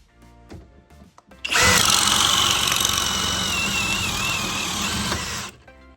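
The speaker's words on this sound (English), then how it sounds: "How about the Cobalt XTR hammer drill? In drill mode, speed 2." A Cobalt XTR hammer drill in drill mode at speed 2, fitted with a paddle bit and an 8 amp-hour battery, starts after a few quiet handling clicks. It whirs loudly and steadily for about four seconds, then spins down, close up.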